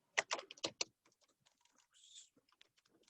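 Typing on a computer keyboard while entering a formula in Excel, starting with a quick burst of loud key clacks and then trailing off into soft, sparse taps, close up with a faint voice in between.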